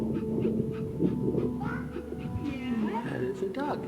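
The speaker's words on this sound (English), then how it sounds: "That is a dog." A trained dog, lying on someone's leg, gives soft whimpers and panting close by, mixed with people talking throughout.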